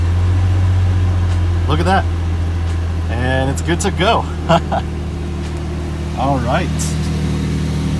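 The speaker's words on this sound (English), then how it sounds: "I'm going to try and start up the engine" A fourth-generation Toyota 4Runner engine runs at a steady idle, a continuous low hum throughout, with no clear cranking burst; someone talks briefly over it.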